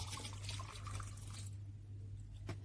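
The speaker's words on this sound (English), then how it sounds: "Now we'll pour in the goji berry syrup that we boiled earlier." Goji berry syrup, boiled earlier, pours into cool water, giving a steady close liquid splashing for about a second and a half before it fades to quiet, with a low hum underneath throughout.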